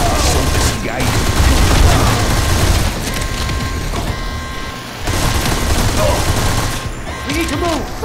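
Dense, loud bursts of gunfire and booming explosions from the military shooter game Modern Combat 4: Zero Hour, sustained throughout with brief dips, mixed with battlefield effects and faint voices.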